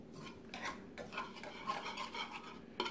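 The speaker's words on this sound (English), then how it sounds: "we're just going to stir that up together real good" A utensil rasps and scrapes in a bowl as an olive oil, salt and pepper marinade is stirred for tri-tip. The strokes are close, quick and repeated, with a few clinks, and no voices are heard.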